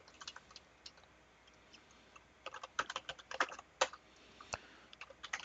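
Keys clatter on a computer keyboard as an IP address is entered during a network troubleshooting lab, with sparse taps at first and then quicker, louder bursts of typing up close.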